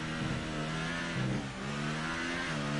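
A race car engine in an Italian circuit racing game revs at medium pitch, climbing and dropping through gear changes in a steady, continuous drone with no voices over it.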